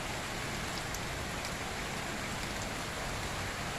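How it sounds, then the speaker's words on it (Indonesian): Steady rain pours onto a hut's roof, a dense, even hiss of drops that holds close and unbroken throughout, with no voices over it. "Hujan guys, untung kita udah ada di gubuk guys."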